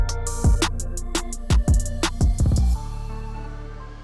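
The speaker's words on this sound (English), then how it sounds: "we just hooked the car up to the dyno" BMW M140i Stage 2+ on a dyno, engine droning steadily with several sharp crackling pops and bangs from the exhaust in bursts, then settling into a lower sustained hum.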